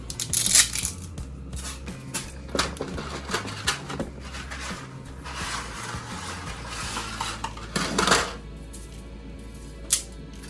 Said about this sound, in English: we're going to do the same thing with our spaghetti noodles. Break them in half.